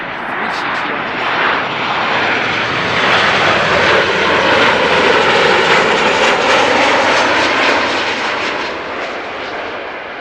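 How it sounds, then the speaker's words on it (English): A Boeing 747 taxis at Amsterdam Schiphol Airport, its jet engines giving a loud, broad roar that swells and eases slowly across the whole stretch, with a voice talking faintly underneath. "That might be the Suparna 747 that we saw land in the, first 10 minutes or so of the stream."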